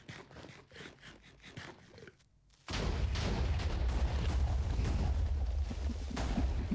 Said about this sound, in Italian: praticamente genera delle esplosioni casuali